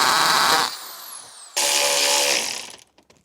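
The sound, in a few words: power drill drilling holes in car bumper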